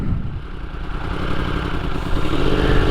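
A motorcycle engine hums steadily and rises slightly as the bike eases away in first gear, heard up close with a continuous low rumble.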